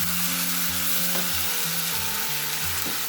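Masala frying in mustard oil for shorshe ilish: a steady, close hiss of sizzling with faint low humming tones underneath and a couple of soft stirring touches.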